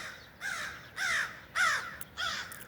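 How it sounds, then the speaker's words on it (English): Crows cawing in a series of four loud, harsh calls spaced about half a second apart, fairly close and standing alone without any talk. "Crows."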